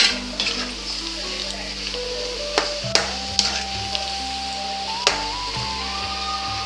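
Chicken pieces fry in hot oil for chicken pickle, a loud, close, continuous sizzle with occasional knocks and scrapes of a spoon stirring the pan, and no talking.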